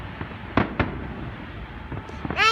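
Bonfire night fireworks including a comet firework: sharp pops and crackling bursts at a distance, a few spaced reports followed by a whistling rise near the end, over a low outdoor background.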